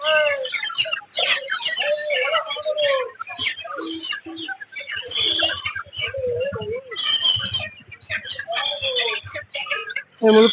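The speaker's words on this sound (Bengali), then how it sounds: "এটা হচ্ছে মুরগির বাজার।" At a wholesale chicken market in Kolkata, many crowded chickens cluck and squawk in a busy, continuous jumble, while people talk nearby throughout.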